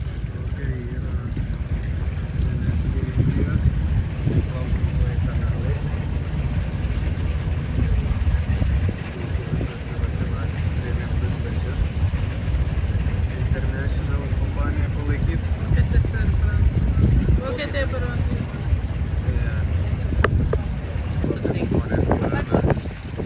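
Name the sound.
boat ride on Alleppey backwaters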